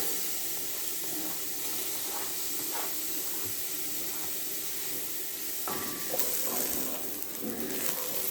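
Chopped onion fries in a pan, a steady bright sizzle and hiss with a few soft clinks of stirring, close and continuous.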